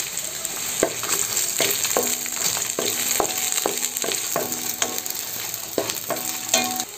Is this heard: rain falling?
no